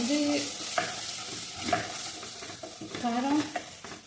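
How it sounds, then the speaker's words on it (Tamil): A spoon scrapes around a pan as chili powder is stirred into a simmering Tamil-style fish curry base, with soft frying sizzle underneath and several distinct stirring strokes. It is close and moderately loud, with no talking. "மிளகாத்தூள் 1 2 3 எல்லாத்தையும் மிக்ஸ் பண்ணிக்கலாம்."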